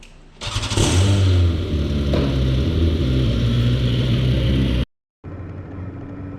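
A motorbike engine starts and revs loudly on a ride from Alcalá la Real to El Chorro in Andalusia, holding a steady, close drone that cuts out for a moment before resuming.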